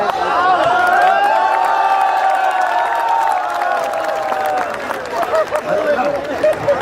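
Audience applause and cheering at a Hindi comic poetry gathering, a dense steady wash of clapping and crowd noise lasting several seconds with voices mixed in, thinning slightly toward the end.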